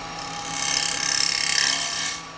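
A carbide detail chisel cutting a wooden Umbilo bowl spinning on a lathe makes a steady, close hissing scrape over the motor's hum, swelling slightly and fading, with no talking.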